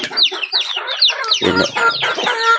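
Several chickens cluck and squawk close by in a busy, overlapping chatter of short bright calls, with no talking.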